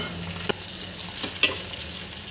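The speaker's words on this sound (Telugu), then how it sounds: "దీంట్లోకి ఆనియన్స్ అయితే వేసేస్తున్నాను నేను. దీంట్లోకి ఒక పచ్చిమిరపకాయ అయితే కోసి వేసుకున్నాను నేను. ఇంకా దీంట్లోకి టమాటా ముక్కలు కూడా వేసేసుకుంటున్నాను." Onions, green chili and tomato pieces fry in oil as they are stirred for pani puri, a soft steady sizzle with a few scraping clicks of the spoon, near and alone.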